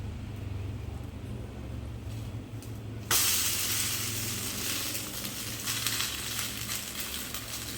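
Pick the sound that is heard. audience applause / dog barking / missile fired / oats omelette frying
oats omelette frying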